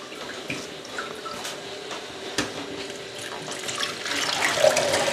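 Liquid from pine shoots soaked for syrup is strained and pressed out, a close trickling and splashing that swells louder toward the end, with no voices.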